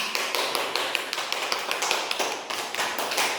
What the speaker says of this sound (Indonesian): Beri aplaus untuk Ilham.